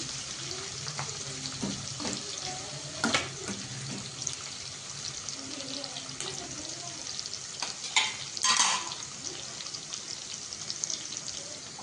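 Oil sizzles steadily in a pan with a broad hiss as onions fry in a dal tempering, broken by a few louder crackles and stirring scrapes; no one speaks.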